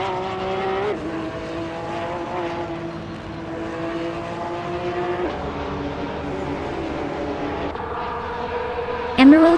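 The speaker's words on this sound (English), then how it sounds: "Emerald Tick 988 is racing a 2017 Porsche 911 991 GT3 Cup" A 2017 Porsche 911 991 GT3 Cup racing in a video game, engine note held steady then shifting through gear changes, with a sharper rise at the end; faint voices underneath.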